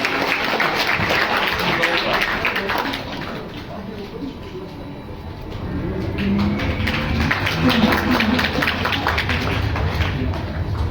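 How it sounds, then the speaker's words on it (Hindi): Audience applause at a Ramleela stage performance, sustained clapping from a crowd with a dip in the middle before swelling again, mixed with background crowd noise. "तालियां बजती रहनी चाहिए।"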